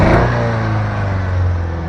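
A car engine with a cylinder misfire idles loudly and close by with a steady low drone and a slightly uneven, rough-running throb, with no voices.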